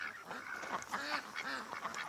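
Ducks in a pen give a few nasal honking quacks over a short stretch, fairly close and moderately loud, with no talking.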